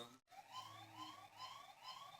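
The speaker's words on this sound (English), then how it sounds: "As you can hear, the alarm is ringing." A Tapo H100 smart hub alarm rings in a rising, siren-like wail, repeating in sweeps roughly every half second, loud and steady with no talking.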